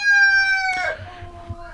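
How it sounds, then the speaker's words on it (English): Hens sitting in a farm nest box give a low clucking murmur after a sharp, loud crow-like call at the start, close by. "And I got some hens sitting in here."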